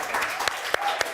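Studio audience applauding a celebrity guest on a British TV chat show, a short burst of dense clapping close and steady without talk.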